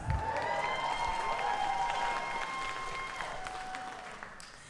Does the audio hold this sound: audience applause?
yes